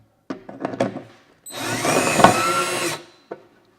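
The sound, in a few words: drill tightening screws on wardrobe closet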